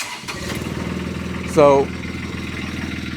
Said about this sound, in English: So I'll start the machine up